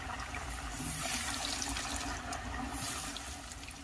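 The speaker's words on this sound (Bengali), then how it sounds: "এবার আমি চপগুলো তেলের মধ্যে ছেড়ে দিচ্ছি।" Vegetable chops sizzle steadily in hot oil in a home kitchen pan, a continuous bubbling hiss that is close and fairly quiet with no talking.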